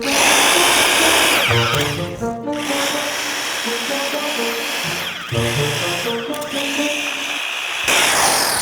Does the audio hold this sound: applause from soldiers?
no